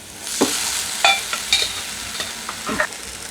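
Cooked jackfruit seeds and coconut tossed in a hot pan for a stir-fry: a continuous sizzle with a handful of clear spatula scrapes and knocks spaced through it, close and fairly loud, with no talking.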